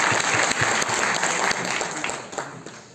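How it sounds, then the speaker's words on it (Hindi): Hearty audience applause fills a university courtyard at a one-day symposium, a dense, close burst of clapping that holds strong, then thins and tapers off near the end. "करतल ध्वनि से गुंजा दो इस प्रांगण को"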